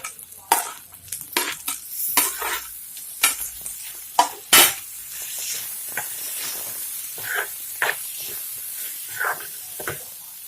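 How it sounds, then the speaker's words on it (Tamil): Tomato and onion sizzle and hiss in hot oil while a utensil stirs and scrapes the pan, with occasional louder crackles and spatters. "அடுத்து வந்து நம்ம நறுக்கி வச்சிருக்கிற தக்காளி போட்டுக்கலாம்"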